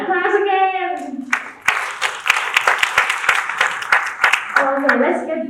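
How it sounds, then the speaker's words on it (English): Audience applause welcoming a speaker at a citizen empowerment talk, a few seconds of lively clapping from a crowd, framed by a voice speaking before and after. "So please give him a warm welcome and applause again."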